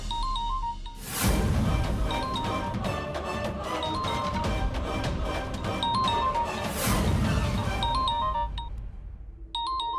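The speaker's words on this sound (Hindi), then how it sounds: "ये रिंगटोन की आवाज तो यही कहीं से आ रही है।" A phone ringtone plays a repeating melodic chime in a TV drama scene, interrupted by loud crashing thuds, then the tone resumes faintly.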